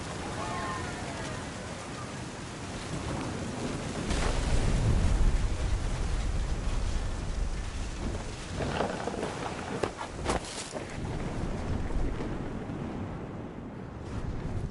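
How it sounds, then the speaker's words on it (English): A thunderstorm in the game What Remains of Edith Finch, with steady heavy rain hissing throughout and deep rumbles of thunder swelling midway and rolling on, under a voice narrating quietly. "The thunder sounded much too close and full of angry power."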